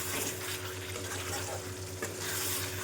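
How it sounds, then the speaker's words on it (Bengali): Chicken fries in a pan while poppy seed paste and dry chilli paste are stirred in, giving a dense, close sizzle with stirring scrapes and a small knock about two-thirds through. "এখন পোস্ত বাটা আর শুকনো লঙ্কা বাটাটা এর মধ্যে দিয়ে দেব, দিয়ে সুন্দর করে এখনো কষাবো।"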